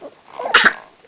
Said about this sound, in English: puppy cough